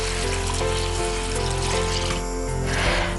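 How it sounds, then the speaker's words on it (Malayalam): Water poured into a cooking pot of fried crushed masala in coconut oil, a continuous close splashing gush with no talking. "ആദ്യം നമ്മളൊരു 3 കപ്പ് വെള്ളം ഒഴിക്കാം."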